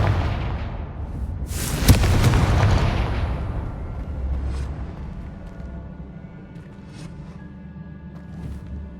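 A Confringo spell explodes in Hogwarts Legacy, a loud booming blast near the start that rumbles and slowly fades into a lingering low hum, with faint magical chimes later.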